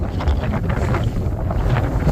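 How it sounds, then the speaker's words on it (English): Steady, blustery wind roars across the microphone outdoors beside a farm shop, a constant low rumble with gusty buffeting and no voices. "it's windy out here"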